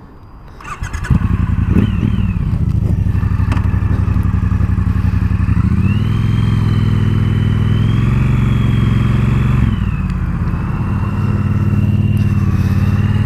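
A Triumph Bobber motorcycle runs loud and close, its engine firing into a steady, throbbing exhaust note that climbs and settles through gear changes as it is ridden.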